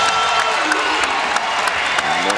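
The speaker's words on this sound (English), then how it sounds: "the follow-up slam, Isaiah Mike, and the loudest this crowd has been." A college basketball arena crowd at an SMU vs Temple game roars and applauds after a follow-up slam dunk, a dense, loud wall of cheering and clapping that continues for the whole stretch.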